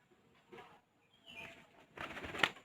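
Pigeons at a loft shuffle and flap their wings in short, close bursts, with soft cooing and a sharp flutter near the end against a quiet background.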